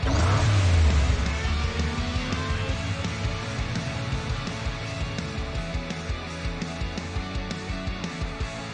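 A Hot Wheels toy car accelerates in a racing video game, its engine revving loudly at first, then holding a steady high-pitched drone with rhythmic pulses beneath game music.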